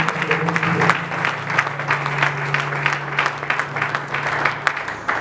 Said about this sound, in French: Nous acclamons la présence du Saint-Esprit